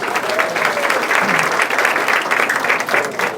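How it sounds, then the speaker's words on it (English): Workshop participants at an anti-aging and detox session applauding, a brisk, even burst of clapping from a small group heard up close. "give yourselves a round of applause"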